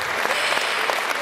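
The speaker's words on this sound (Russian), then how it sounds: "Аплодисменты" A live audience at a poetry evening honoring poet Valentina Sergeeva bursts into dense, loud applause, a continuous wash of many hands clapping close up with no pauses.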